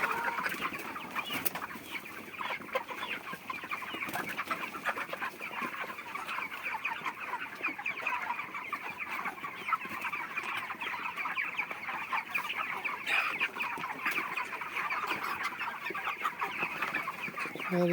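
A crowded shed of roughly forty-day-old broiler chickens clucks and murmurs continuously, a dense, steady chorus of many birds close by with no talking.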